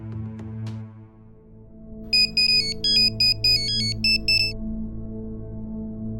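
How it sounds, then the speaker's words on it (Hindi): An electronic phone ringtone plays a short melodic pattern of bright beeping tones for a couple of seconds over a steady low hum and background music. "ए चले जगदीश को फोन लगा।"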